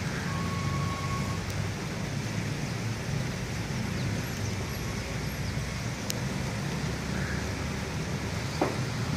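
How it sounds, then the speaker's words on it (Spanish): Steady rain falls at dawn in the Siloé neighbourhood of Cali, a continuous broadband hiss with faint passing traffic underneath and no talk. "Llueve pues acá en Siloé"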